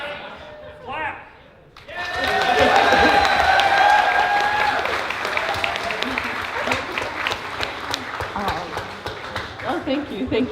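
A crowd at the Trotcon 2014 convention opening ceremony breaks into loud, sustained applause with cheers and whoops after a brief voice, then the clapping continues steadily for several seconds.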